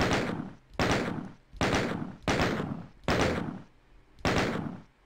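Six loud, evenly spaced gunshots in the classic video game Doom, Nuclear Plant level, ring out one after another, each with a booming echo that decays before the next shot.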